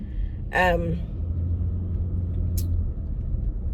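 A car idles in stuck traffic, a low steady engine rumble running underneath, with a brief voice near the start and a short hiss later.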